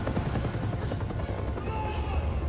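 A military helicopter's rotor thumps steadily close by in a film scene, set against soldiers beset by ghosts, its low chop loud and continuous throughout with a faint voice under it.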